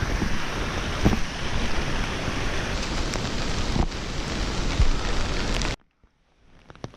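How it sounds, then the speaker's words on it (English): Steady rain falls during a Himalayan trek, a dense continuous hiss with a few sharper patters, fairly loud and close, before cutting to near silence at the end. "Especially now that the rain is starting to come down."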